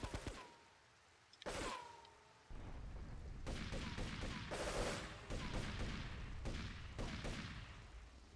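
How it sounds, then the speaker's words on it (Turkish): Gunfire in the video game Grand Theft Auto 3 comes in sharp bursts and sustained volleys, with a pause before louder continuous shooting and echoing booms, fairly loud and with no talking. "İki tane silah bitirdim herifi düşürmek için."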